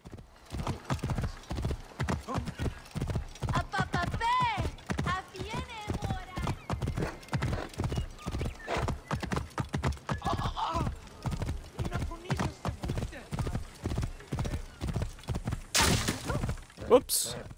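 A horse gallops with rapid, rhythmic hoofbeats throughout in Assassin's Creed Origins, neighing a couple of times, with a sharp impact near the end.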